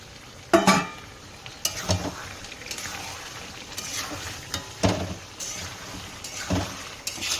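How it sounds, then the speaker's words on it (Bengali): Boiled potatoes tumble into fried-down masala in a pan for aloo dum, giving a few distinct scraping and plopping impacts over a low steady sizzle, with no talking. "মশলার মধ্যে এখন ঢেলে দেবো আলুগুলো"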